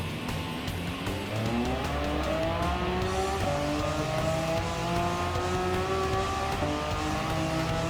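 Race car engine in a racing video game revving loudly and continuously, the pitch climbing through gear changes with steady roaring harmonics and faint tire noise throughout.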